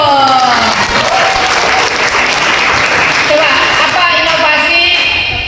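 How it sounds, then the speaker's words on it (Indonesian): Loud, dense applause from an audience at an Islamic study gathering, continuous clapping filling the whole moment at close range with no pauses. "Tepuk tangan dulu dong"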